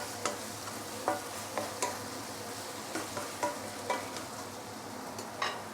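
Roast pork fried noodles are stirred in a hot pan, a spatula scraping and clacking in a steady rhythm of sharp ticks over a constant sizzle.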